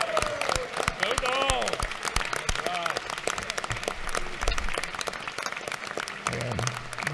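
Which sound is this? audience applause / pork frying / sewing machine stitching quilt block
audience applause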